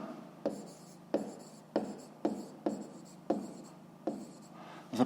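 Pen writing by hand on paper during a grade 5 maths exercise, seven quiet bursts of scratchy strokes separated by short pauses, close and alone.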